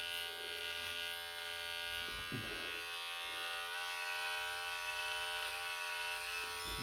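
Electric clippers shaving a head, a steady close buzzing hum that runs throughout with slight shifts in tone as the blade moves, no talking.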